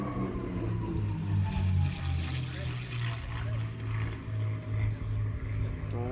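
Aerobatic propeller aircraft fly past at an airshow, passing over one another with a loud droning engine note that swells and fades, while an announcer talks over the sound.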